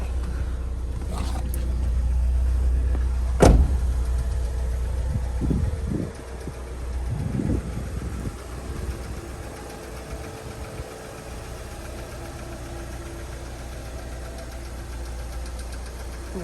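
A Fiat Punto engine idles quietly with a steady low rumble and a faint knock-like pulse, holding evenly throughout with a brief louder click near the start and no talking.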